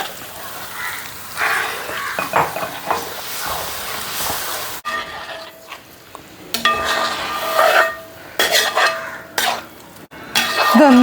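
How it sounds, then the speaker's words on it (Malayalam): A spoon stirs rice payasam cooked in coconut milk as it simmers, with soft scraping, swishing and gentle sizzling against the pot, and occasional sharper clinks, heard up close. "നമുക്ക് ഇതിലേക്ക് 3-ാം പാൽ ഒഴിച്ചു കൊടുക്കാം. തേങ്ങാപ്പാലിലാണ് ഈ ചോറ് വേവിച്ചത് കേട്ടോ."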